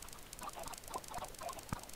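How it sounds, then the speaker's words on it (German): Minecraft chickens clucking as they die in a video game, several short, quiet bird clucks scattered across a brief stretch with faint background game noise. "Ich merke jetzt, da sterben Hühner."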